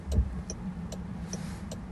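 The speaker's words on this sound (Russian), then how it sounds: "и включаем правый поворот." A Jaguar I-PACE turn signal indicator clicks steadily inside the cabin, four or five even ticks over a low steady hum with no talking.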